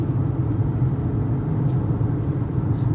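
Car driving on a road, heard from inside as a steady low rumble of engine and tyres with a faint whir, continuous and moderately loud, no voices.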